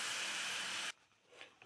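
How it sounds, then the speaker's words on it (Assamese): Hot water poured into a pan of fried gram flour, tomato and onion gives a loud steady steaming hiss that cuts off abruptly partway through, then faint sizzling remains. "গৰম পানী দি দিম এতিয়া।"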